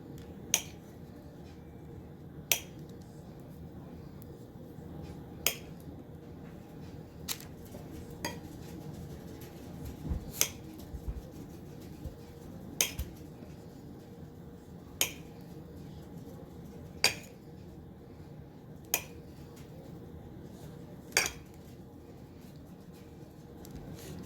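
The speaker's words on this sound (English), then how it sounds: "I got my butter chopped in chunks" Knife blade tapping down through a stick of butter on a cutting board, a dozen or so sharp, isolated clicks spaced every second or two over a low steady kitchen background hum, no talking.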